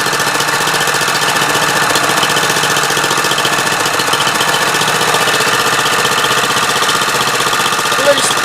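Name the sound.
Mikasa MVH-206GH hydraulic plate tamper engine idling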